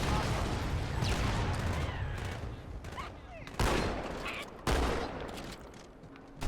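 Halo 2 shotgun blasts in a video game match, with dense chaotic combat noise and two sharp, loud booming shots standing out near the middle and later, alongside other gunfire.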